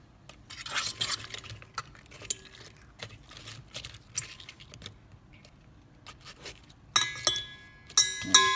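Battered cod pieces stirred and mixed in a bowl, irregular clinks, scrapes and wet rustles from a utensil, close by, with sharper metallic clatters near the end and no talking.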